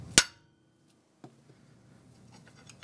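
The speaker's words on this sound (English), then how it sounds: "Smack it one time with a hammer." A hammer strikes an aluminum piece once against a motorcycle cylinder head during a coil-mount fabrication job, a single sharp metallic smack, then quiet shop noise and faint handling clatter.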